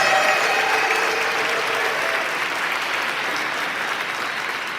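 Sustained applause from an audience at a charity fundraising auction for gun responsibility, many hands clapping in a thick, even wash that slowly softens toward the end, no voices over it.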